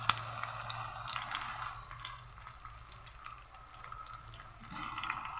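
Onion and tomato fry in a pan with green chili, a continuous close sizzle and hiss with light stirring, steady throughout.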